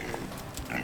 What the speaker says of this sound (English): Just a couple little oinkers, that's all.